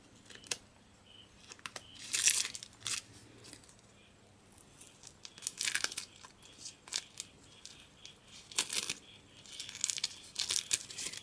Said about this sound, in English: I've cut so much of this double-sided adhesive